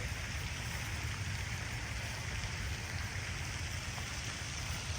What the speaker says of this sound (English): Another rainy day in Florida